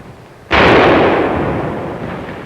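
Rifle grenades fire in a 1946 war film, one loud sudden blast followed by a long rumbling decay that fills the rest of the moment.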